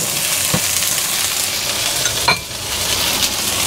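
Crushed scallion whites stir-fried in a hot wok give a steady close sizzle, with a few brief scrapes of a spatula as they are tossed.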